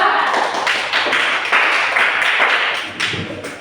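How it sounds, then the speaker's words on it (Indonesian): A classroom audience gives group 2 a round of applause after their presentation, steady clapping from many hands filling the room and tapering off toward the end. "silakan berikan aplaus kepada kelompok 2"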